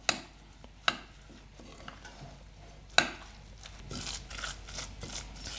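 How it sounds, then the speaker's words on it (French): A spoon stirs a thick eggless quinoa mixture bound with aquafaba, giving soft scraping and a few sharp clinks against the bowl, quiet and close. "Je mélange tout ça."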